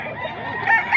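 Roosters and chickens at a Bocaue flea market, crowing and clucking close by in a brief, busy burst with no talk over it.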